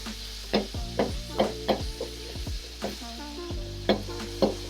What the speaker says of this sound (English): I'm gonna fry my saltfish.